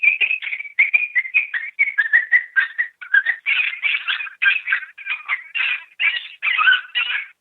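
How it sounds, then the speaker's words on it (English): Coyote pup distress call played through a FoxPro Shockwave electronic caller: a rapid run of high, yelping whines and squeals repeating for several seconds, loud and close with no talking. "this is Coyote Pup Distress 3"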